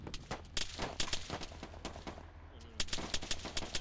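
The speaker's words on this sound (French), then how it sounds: "Donc, ça tire là." Rapid bursts of gunfire in the video game Arma 3, a co-op mission on Altis, crack out in repeated sharp volleys over a low rumbling background, with a brief lull before another cluster of shots.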